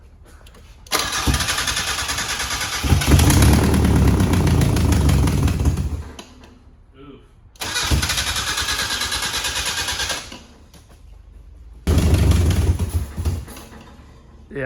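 Abandoned Mazda Miata cranking and firing up in three separate bursts, loud and close, with a raspy exhaust leak chuffing through the running engine and short pauses between attempts; brief voices in between.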